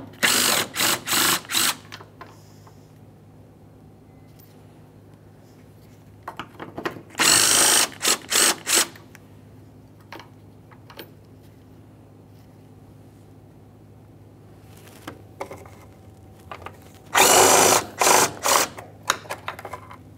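Power tool removing 10mm mounting bolts from a Jeep Grand Cherokee headlight bracket: several short loud whirring bursts with ratcheting clicks, separated by quiet pauses, close up in a garage.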